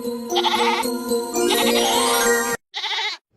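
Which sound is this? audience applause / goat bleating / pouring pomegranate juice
goat bleating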